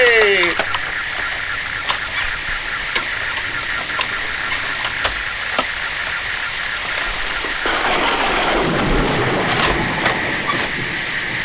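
Heavy rain beats down during a nighttime storm, a loud, constant wash of drops and spatter, while people shout and talk over it toward the end.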